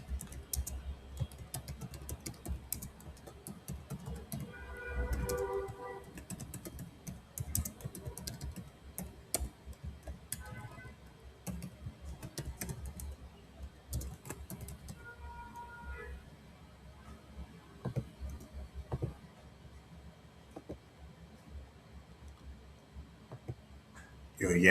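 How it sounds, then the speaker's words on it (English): Typing on a computer keyboard while filling in an online sign-up form, quiet rapid clicking keystrokes in bursts throughout, with faint talk and background noise underneath. "type in your contact address"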